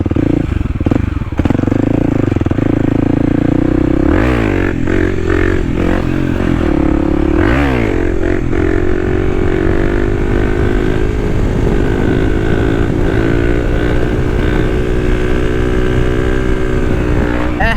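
A Kawasaki KLX300 dirt bike ridden on a woods trail, its engine loud and close, revving up in sharp bursts early on before settling into a steady hard-pulling drone with some clatter.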